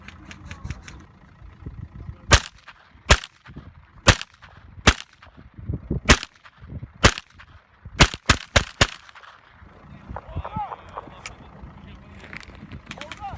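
A Safir T14 shotgun fires a string of loud, sharp blasts at uneven intervals, several in quick succession near the end, over a low background rumble outdoors.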